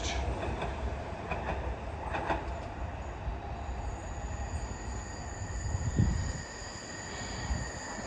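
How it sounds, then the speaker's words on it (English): A metro train departs a station on the Northumberland line, a steady rumble of rolling wheels with faint squeals and clicks, moderately close and continuous with no voices. "Departing now is the timeway metro service off to St James's via the"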